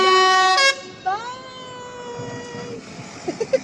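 Loud truck air horns blare at a Christmas parade of tractors and trucks, a long sustained blast that bends down in pitch and fades, followed by a few short sharp sounds, close by and without voices.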